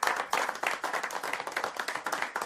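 A small group claps in a quick, uneven rhythm for a couple of seconds, the hand claps close and fairly loud.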